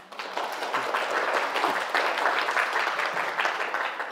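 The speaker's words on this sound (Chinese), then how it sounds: "我们这个以热烈的掌声欢迎易总给我们讲这次课" Warm audience applause welcoming a guest speaker to a lecture hall, sustained dense clapping that swells after a soft start and holds steady, with no voices over it.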